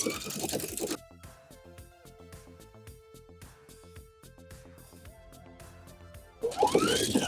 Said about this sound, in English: So now we're gonna go over to the sewing machine and we're going to sew just through the fly.